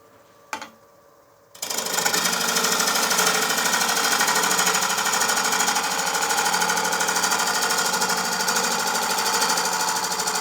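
Wet wood bowl blank spinning on a lathe while a tool takes a light eighth-inch shaving, a loud steady broadband hiss and whir that starts abruptly after a brief quiet knock and continues unbroken.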